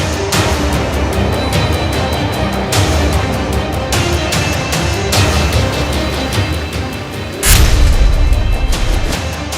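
Electric meters at Sarkanda Nutan Chowk burst like firecrackers as two shops caught fire: sharp popping cracks recur over a dense, roaring rumble, with a heavier, louder burst near the end.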